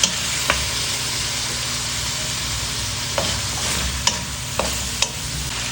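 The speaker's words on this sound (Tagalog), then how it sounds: "Then, saka natin haluin." Fried potatoes, carrots and peas being stirred in a pan give a continuous loud sizzle, broken by a few sharp spatula scrapes and knocks against the metal.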